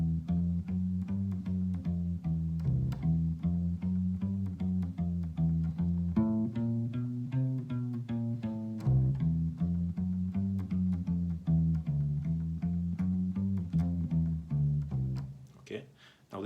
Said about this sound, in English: So altogether the 12-bar blues with those sort of runs in would sound like this.